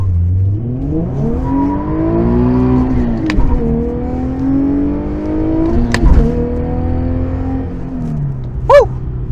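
Infiniti G37 pulling hard through the gears, engine note rising and falling with a sharp tyre chirp on the shift into third and a second blip near the end, the car being driven with a worn bushing, loud and close with no talk.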